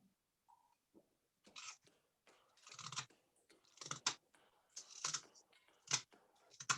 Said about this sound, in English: I hear someone else crunching